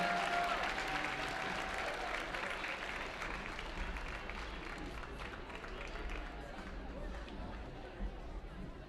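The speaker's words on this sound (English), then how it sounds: "Let's get one final round of applause for our basketball seniors and their families." Crowd in a high school gym applauding basketball seniors and their families on senior night, steady dense clapping and cheering that holds for several seconds, fading slightly toward the end, with chatter underneath.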